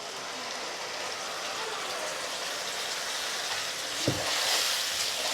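Ginger and tomato paste frying in a pan, a steady moderate sizzle running throughout, with a brief clink of a utensil near the end.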